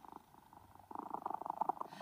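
A mother cat purrs softly and close by, a low rumbling vibration that starts faint and grows steadier and more pulsing in its second half.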